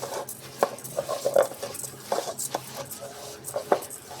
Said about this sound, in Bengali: দিয়ে দেবো সয়াবিন তেল এবার এটাকে আমি ভালো করে মাখাবো